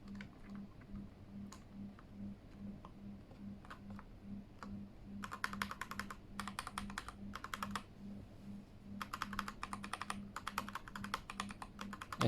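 Mechanical Keychron K8 keyboard being typed on in bursts of rapid clicky keystrokes separated by pauses, close and fairly quiet over a steady low background hum.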